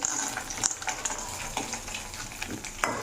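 Peanuts, cumin and dried red chillies fry in a pan while being stirred, giving a steady close sizzle with scraping strokes and light rattles, no voices.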